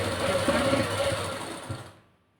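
A sewing machine stitching a salwar runs in a continuous close mechanical whir that slows and cuts off near the end, leaving silence.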